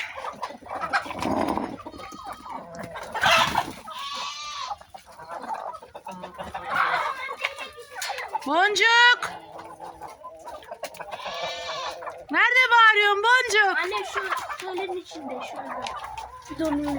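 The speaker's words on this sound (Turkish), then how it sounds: "Annemin tavukları" Chickens cluck and squawk nearby in repeated bursts, with a rooster's crow rising among them and people talking quietly at times.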